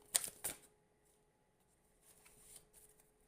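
Tarot cards being handled and a card drawn from the deck: two quick crisp snaps near the start, then faint soft slides and shuffling rustles in a quiet room.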